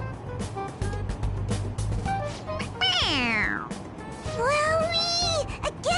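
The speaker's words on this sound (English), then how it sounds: "A toy! It meows when you press on its head." A toy cat in Persona 5 Royal gives two clear, sliding meows when pressed, over a busy background with a muffled engine-like hum and some talking.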